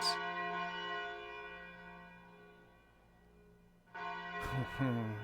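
A deep church-style bell tolls midnight in Umineko: When They Cry, one long ringing strike decaying slowly, then a second strike sounding near the end, loud and resonant.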